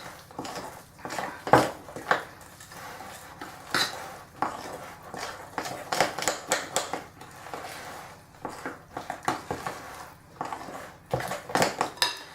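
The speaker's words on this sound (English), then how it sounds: "And don't over mix it, just till it's all wet and all the dry flour is incorporated into the batter." Chocolate banana muffin batter is folded in a bowl with a spoon, giving repeated close scraping and soft wet squishing strokes with occasional clinks against the bowl, in an irregular rhythm throughout.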